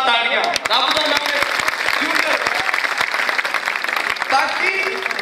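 An audience at a poetry recital (mushaira) claps loudly and continuously, a dense burst of applause close by with a voice speaking over it.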